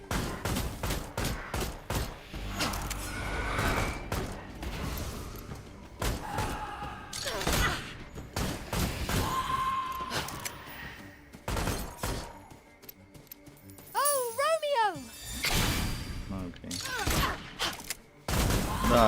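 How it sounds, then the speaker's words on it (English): Ignite bullets fire in the video game Ravenswatch as a rapid string of sharp shots and thumps, with loud bursts, whooshing effects and a swooping tone midway, mostly without speech. "So I can shoot the ignite bullets."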